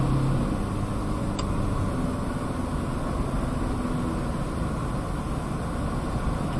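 Steady engine and road drone from inside a Mitsubishi Pajero Sport automatic SUV on a highway as it slows under light engine braking, a constant loud wash of noise with a faint low hum and no speech.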